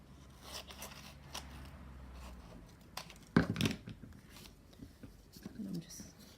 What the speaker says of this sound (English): And I'm just going to cut it like you're wrapping a present.